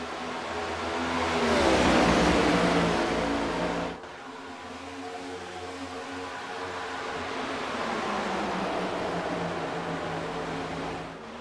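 Race cars in a racing video game roar around a speedway in a sustained engine drone that swells loudly, drops abruptly, then holds a steadier whine as the pack circles.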